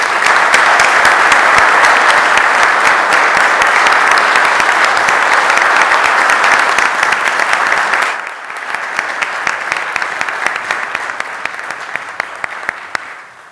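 Applause at a city council meeting: a roomful of attendees clap steadily and fairly loudly for about eight seconds, then the clapping thins to a lighter patter of scattered hands that continues to the end.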